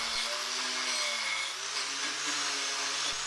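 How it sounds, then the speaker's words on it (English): An angle grinder fitted with a wire wheel scours rust off steel on a Talbot Express camper van battery tray, a steady high whirring whine held close and loud throughout with only slight shifts in pitch. "That's using the wire wheel."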